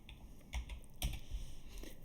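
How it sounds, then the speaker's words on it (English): A name being typed on a computer keyboard, a few quick soft key clicks in short bursts heard close up against a quiet background, with no talking. "I'm gonna type in my own name"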